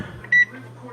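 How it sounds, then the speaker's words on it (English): A kitchen oven timer gives a single short, bright electronic beep as it is set, close by, with a voice talking quietly around it. "And I'm going to set the timer"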